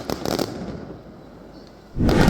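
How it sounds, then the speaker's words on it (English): Fireworks burst over a river at night in Guilin, with crackling booms near the start and a louder, dense burst toward the end. "the night sky was illuminated by endless fireworks, while spectators on the riverbank cheered on"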